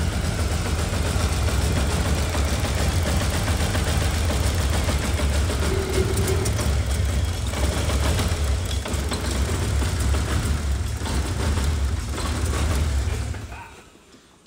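K24 engine idling with a misfire, a loud steady low rumble with uneven stumbles running close by until it cuts off near the end.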